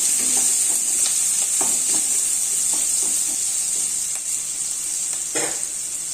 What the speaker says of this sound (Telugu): ఇవన్నీ బెండకాయలు వేగిపోయినాయి, జిగట అంతా పోయింది.